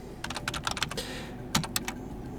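Fingers tap a computer keyboard while entering an rm command in a Linux terminal to delete files, with a few uneven clusters of close, crisp key clicks and brief pauses between them.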